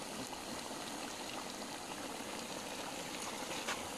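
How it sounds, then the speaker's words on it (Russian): Carrots, onion and meat for plov stew in a covered pot over an open fire outdoors, giving a steady, even bubbling hiss that carries on without pause at moderate level, with no talk. "Необходимо морковку, лук и мясо протушить."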